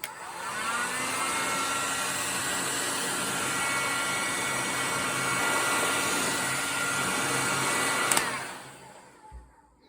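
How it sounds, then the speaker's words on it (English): A heat gun blows steadily while heating a Suzuki GT750 water pump housing, a loud even fan-and-air roar lasting about eight seconds before it is switched off and winds down, with no talking. "I use my heat gun."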